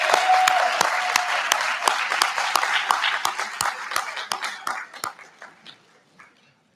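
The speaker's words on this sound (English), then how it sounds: "I just want to give a quick round of applause to Gary McCoskey for the piano tonight." Audience applause for the pianist at a high school student achievement awards night, a dense wash of many hands clapping that thins out into scattered individual claps and fades to silence.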